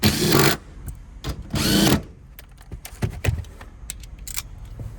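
Power drill tightening amplifier screws inside a 2014-2021 Toyota Tundra crew cab, two loud close whirring bursts followed by clicks, rattles and small handling knocks.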